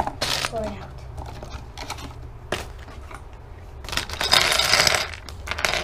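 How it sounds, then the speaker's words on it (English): Small plastic Lego pieces for a Homer Lego Dimensions set pour and clatter out of a bag in a few rattling bursts, with a voice talking over the pouring. "But here's the pieces. Pour it out, pour it out, pour it out."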